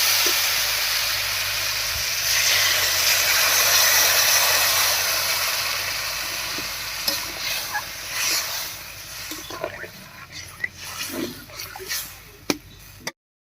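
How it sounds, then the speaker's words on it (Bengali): Water poured into a pan of frying spiced small-fish curry with eggplant, a loud broad hiss and sizzle that slowly fades into quieter bubbling with scattered pops and clinks. "এবার ঝোলের জন্য জল দেবো"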